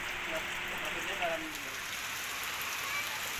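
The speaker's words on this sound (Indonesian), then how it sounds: "Hujan lebat yang mengguyur kota Banjarmasin sejak Senin pagi menyebabkan warga was-was." Heavy rain pours steadily over the city of Banjarmasin, a dense, even hiss of drops on surfaces that holds constant throughout at moderate level, with no voices over it.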